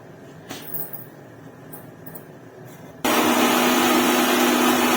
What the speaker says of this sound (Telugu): ఇది మసాలా అయితే మిక్సీకి పడుతున్నాను చూడండి.